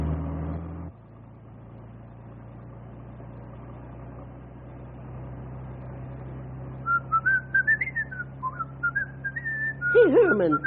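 A man whistles a short, wavering tune over a steady low engine hum, the pitch sliding up and down with a few quick rising notes at the end; no talking.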